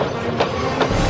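A diesel locomotive pulling away from a harbor and gathering speed, with steady rail rumble, clattering wheels and two brief bright clanks or squeals standing out from the continuous close noise.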